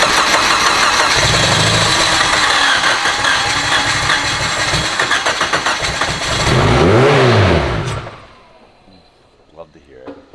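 A turbocharged K-series engine swapped into an FRS, running on pump E, cranks and fires for its first start, revving loudly with rising and falling pitch sweeps before cutting off abruptly near the end, followed by quieter rattling.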